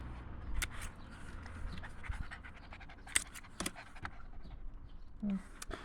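A dog pants in quick, breathy bursts close by, with occasional light clicks and shuffling in the background.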